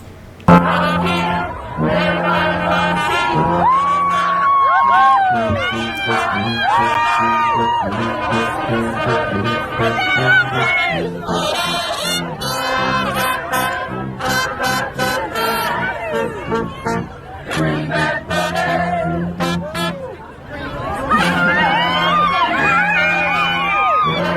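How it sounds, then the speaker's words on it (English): Concert crowd on a New Zealand and Australia tour sings the Suits theme song together, a loud mass of voices carrying a melody with shouts and cheers mixed in, swelling and dipping over about twenty-four seconds. "this was one of my favorite part of the New Zealand Australia tour when the crowd played the Suit theme song"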